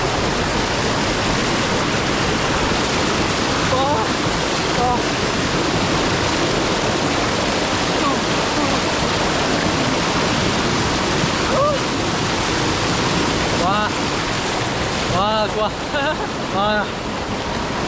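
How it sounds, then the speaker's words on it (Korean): A constant roaring rush of falling water from the Ganmai waterfall in India dominates throughout, loud and close, with brief faint voices or splashes now and then. "와, 간마이 폭포 진짜 좋네요"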